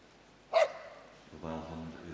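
A male Swedish Vallhund at the Crufts 2008 dog show lets out one sharp bark, followed by a person speaking in a quiet hall.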